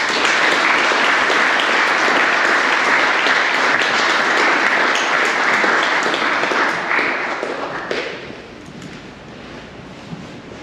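A large audience applauds loudly and steadily to welcome a speaker at an evening horology talk, a dense wash of clapping that fades off near the end into quiet room tone.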